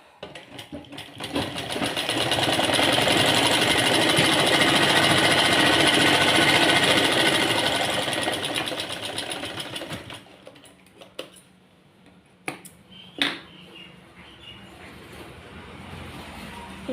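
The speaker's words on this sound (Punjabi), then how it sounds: "ਤਰ੍ਹਾਂ ਆਪਾਂ ਨੇ ਹੁਣ ਐਦਾਂ ਚਾਰੇ ਬੰਨੇ ਸਲਾਈ ਲਗਾਉਣੀ ਆ" A sewing machine stitches seams on a Farshi salwar, running steadily and loud for about ten seconds before stopping, followed by quieter handling clicks and a few short taps.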